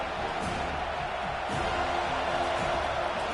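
Stadium crowd at a college football game, Florida State against Miami, roaring as a steady, dense wash of voices and cheering throughout, with occasional louder swells.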